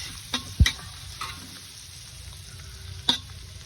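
Rice frying in a pan with a low, constant sizzle, broken by a few sharp spatula scrapes and taps against the pan, one especially loud clack early on.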